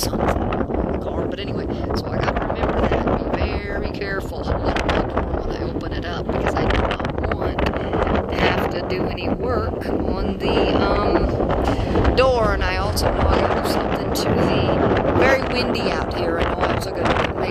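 Strong wind buffeting a microphone outdoors on the open road near NE Highway 2, a constant loud rumbling roar throughout, with a voice faintly talking beneath it.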